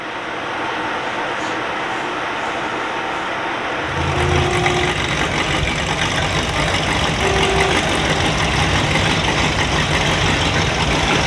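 A 1938 Chevy idles at an outdoor car show, a loud steady engine rumble that grows fuller and louder partway through, with a faint background murmur.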